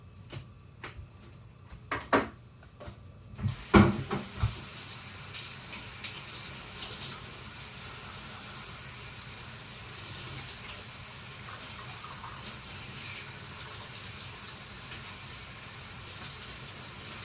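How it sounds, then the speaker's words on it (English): Kale washed under running tap water, starting with a few clatters and splashes, then a steady close stream of faucet water hissing into the sink, no voices. "I'm going to wash the kale and grind it up"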